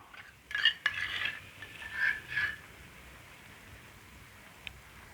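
A spoon spreads tomato sauce across a slice of bread in a few short scraping strokes in the first half, then goes quiet apart from a single light tap near the end.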